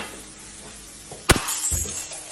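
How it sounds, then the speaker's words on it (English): A drinking glass suddenly shatters indoors with one sharp, loud crash and a brief tinkle of fragments, after a quiet stretch and with no voices. "the glass suddenly shatters out of nowhere"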